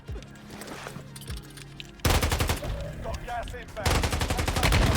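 Rapid automatic gunfire in the mobile shooter game Warzone Mobile, loud bursts of repeated shots that get denser and louder toward the end over game ambience, with a faint voice talking early on.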